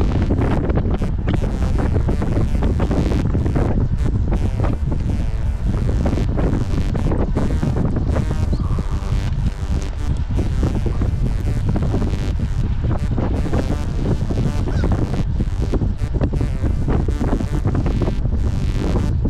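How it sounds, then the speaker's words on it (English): Strong southeasterly headwind pounds cyclists riding uphill on a road, a loud, continuous roar of wind buffeting the microphone with gusty surges throughout. "we got this wind just pounding us from in our face and from the right"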